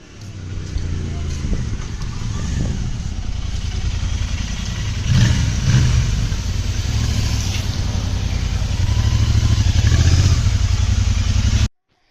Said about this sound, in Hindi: और एक टेस्ट रन मार ले बाइक का।